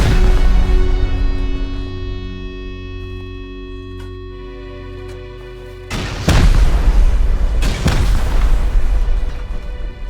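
Rockets blasting apart a high quality metal base in the Rust video game: a loud sustained rumble fades, then two heavy booming explosions land close together near the end.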